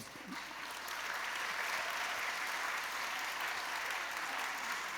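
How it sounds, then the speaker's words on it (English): Sustained applause from an audience at a keynote speech, honoring a retiring city ambassador, a dense wash of clapping that holds steady and loud throughout. "I think we all ought to give Ron a round of applause"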